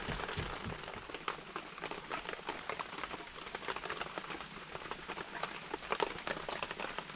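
Heavy rain pours in a forest, a dense, steady patter of drops striking leaves and ground with scattered sharper hits, fairly close and continuous without talk.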